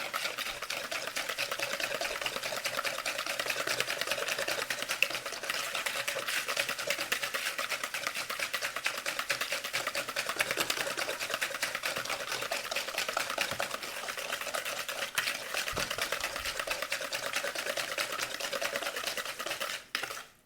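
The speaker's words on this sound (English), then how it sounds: "So I'm gonna whisk this for about 30 to 45 seconds" Vegan banana walnut muffin batter is whisked by hand in a bowl, producing a continuous fast, rhythmic scraping and sloshing that runs steadily and close up for about twenty seconds.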